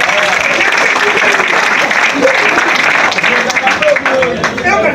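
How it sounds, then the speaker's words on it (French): A hall audience applauds at a ceremony where artists and comedians receive a government minister at a museum, a loud, dense patter of clapping continuing throughout, with voices mixed in underneath. "que je vous demande d'applaudir"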